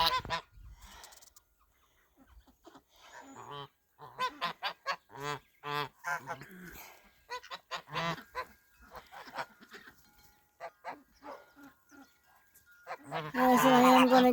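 Swedish Blue ducks call out in the snow with a run of loud, close, honking quacks that come in uneven bursts, separated by short gaps of quiet.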